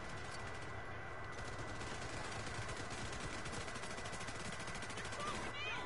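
A big gun fires continuously in a video game, a steady dense stream of rapid shots at even loudness throughout, with a voice talking over it.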